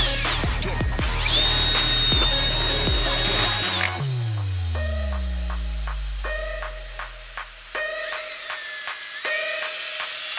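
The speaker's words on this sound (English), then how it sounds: "drill pilot holes where you tapped earlier" A power drill whines loudly as it bores pilot holes through two layers of metal in a Jeep JKU hood, winds down, then runs in several short bursts with brief stops between.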